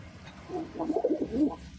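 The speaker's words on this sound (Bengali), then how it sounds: "সিরাজ কবুতর ডাকটা দেখেন" Pigeons coo nearby, a run of soft, throaty, rolling calls that rise and fall over a quiet background.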